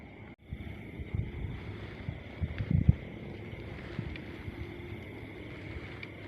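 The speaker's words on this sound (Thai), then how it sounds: "ลมพัดเย็นดีเหมือนกันครับกลางคืน" Night wind blows steadily across an open outdoor spot in Ayutthaya where rat snares are set, a continuous airy rush with a few louder gusts and faint rustles, no talking.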